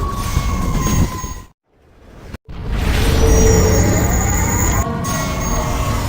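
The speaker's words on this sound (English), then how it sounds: "it snowed here in Philly today, so lots of sirens out there" Emergency vehicle sirens wail in the background in snowy Philadelphia, a rising and falling tone under steady outdoor noise, with a brief quiet gap midway.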